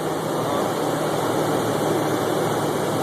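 A CNG-fuelled V8 engine runs steadily at close range as its revs settle lower while the fuel system switches over, a continuous loud droning hum with no talk.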